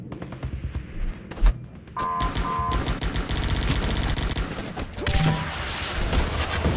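Gunfire in the strategy game Guns Up!: a soft thud comes first, then from about two seconds in a loud, continuous stream of rapid machine-gun bursts and shots rattles on to the end without a break.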